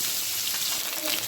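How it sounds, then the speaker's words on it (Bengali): Chopped pointed gourd (potol) fries in hot oil, giving a brief, steady, close hiss of sizzling with no separate pops or breaks. "কুচানো পটল ভেজে নেব।"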